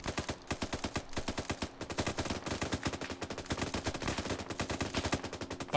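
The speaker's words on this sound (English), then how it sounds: "they're shooting at us" Dense, continuous enemy gunfire in the Arma 3 military game, rapid automatic bursts and overlapping shots cracking loudly and steadily throughout with no break.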